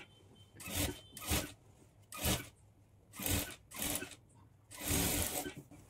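Sewing machine stitching a cross belt on a blouse, running over an earlier seam in six short bursts with brief pauses between them, close and moderately loud with no voice.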